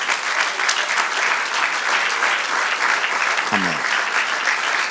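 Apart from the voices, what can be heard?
applause for the Lord in church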